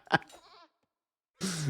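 Goats bleat in a miniature-map strategy video game: a short, nasal bleat, a pause, then a second brighter bleat, heard alone at moderate volume.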